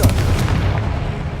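A fiery Confringo spell bursts in Hogwarts Legacy as a short, heavy explosive boom with a rumbling low end that holds steady for about a second and a half.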